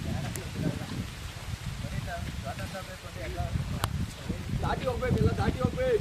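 Steady rain falls during a trek near Sakaleshpur, a continuous broadband hiss of drops on leaves and ground, with faint bird chirps and murmuring voices mixed in throughout.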